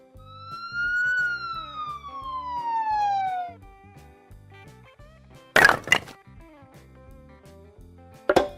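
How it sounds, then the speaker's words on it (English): An ambulance siren wails with a long descending tone for a few seconds, followed by a couple of sharp percussive knocks, in a children's vehicle-learning setting. "Ambulance."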